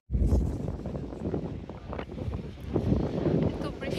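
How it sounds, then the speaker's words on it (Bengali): Heavy rain and strong wind buffet the outside of a bus where passengers wait out a storm, a steady low rumble of gusting noise that stays loud for the whole stretch. "বৃষ্টি পড়ছে অনেক।"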